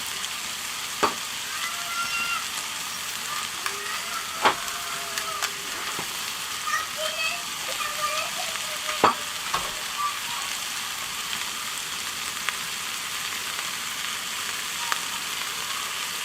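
Dorade fish grilling with a little olive oil on a braai, giving a steady, fairly quiet sizzle and crackle throughout, with scattered small pops and faint clinks and no talk.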